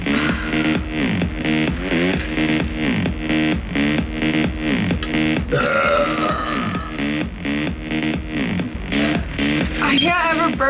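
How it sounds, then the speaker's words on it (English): Long, loud, pulsing belches repeat in steady rhythmic bursts during a burping contest, with a brief murmur of voices partway through. "I can't ever burp like a dude."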